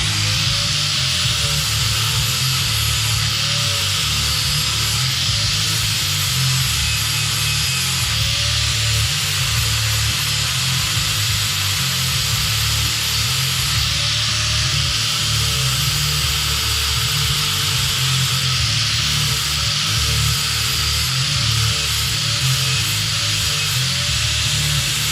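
A grinder bevels the metal of a GM 8.5-inch rear end housing before welding, a loud continuous abrasive grinding whine with subtle rising and falling pitch sweeps throughout, close and unbroken.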